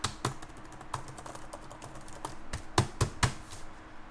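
Typing on a 16-inch MacBook Pro keyboard, a series of crisp, irregular key clicks close to the microphone, with a few louder, heavier strokes near the end over a faint steady hiss.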